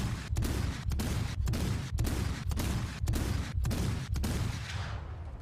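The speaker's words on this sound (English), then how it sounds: "these are the guns on the Leipzig, the new light cruiser for Germany" Naval guns of the German light cruiser Leipzig firing in War Thunder, a rapid steady salvo of about nine loud booming shots roughly half a second apart, each with a rumbling tail, no voices.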